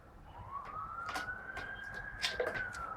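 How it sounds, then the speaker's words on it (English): A fire engine siren wails faintly from a distance in one long rising tone, with some background noise and faint bird-like chirps. "Oh my god, it's a fire engine."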